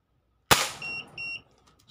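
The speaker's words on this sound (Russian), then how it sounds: "Выстрел." A single sharp shot from a Crosman 1377 air pistol firing a 0.49-gram pellet cracks out, followed by a couple of short electronic beeps from a chronograph.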